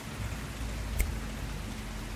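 Steady rain falls on forest leaves, a soft even patter throughout with a single slightly louder drop near the middle, no voices present.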